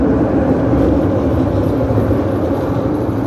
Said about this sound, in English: A 100 class tram.